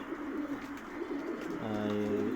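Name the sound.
pigeons cooing on a roof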